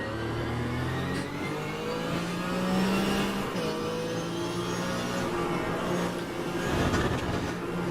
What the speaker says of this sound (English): The Rough Yellowbird is available in Assetto Corsa